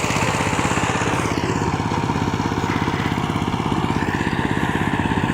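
A small engine chugs steadily and loudly with a fast, even pulse, working a muddy rice paddy field on its third ploughing in foggy, cold weather.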